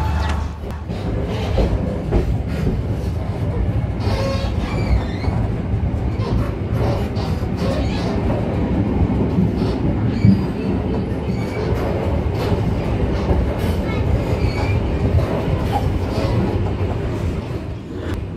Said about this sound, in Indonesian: perjalanan kereta api Probowangi sudah meninggalkan stasiun Banyuwangi Kota